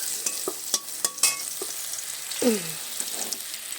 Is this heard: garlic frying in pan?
yes